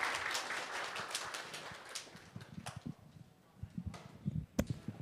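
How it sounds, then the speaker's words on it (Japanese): Conference audience at PyCon JP 2022 clapping for a speaker's talk: a full burst of applause for about two seconds, then thinning to scattered single claps that fade out. "発表者の鈴木さんに大きな拍手をお願いいたします"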